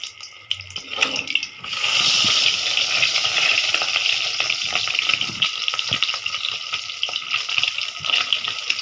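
Batter for patishapta pitha fries in a hot pan, starting with a few clatters before a steady, loud sizzling crackle takes over and continues for several seconds close by.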